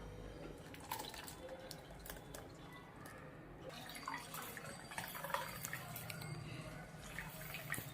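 Quiet liquid dripping and trickling as coconut milk is strained, with soft intermittent drops and some faint handling noise.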